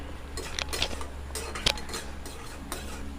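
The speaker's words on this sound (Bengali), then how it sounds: "চিনি দিয়ে ভালো করে আমি মিশিয়ে নিচ্ছি" A utensil stirs snake gourd and sugar in a pan, making irregular scraping strokes and sharp metallic clinks against the pan, close and clear, with no talking.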